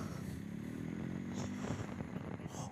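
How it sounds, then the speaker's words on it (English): Motorcycles roll past outdoors with a steady engine drone and a low rumble that shifts in pitch as they go by, fairly close and continuous. "Oh, bikes."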